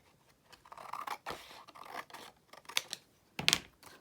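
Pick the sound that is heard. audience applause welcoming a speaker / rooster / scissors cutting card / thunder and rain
scissors cutting card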